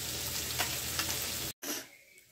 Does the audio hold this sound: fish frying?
yes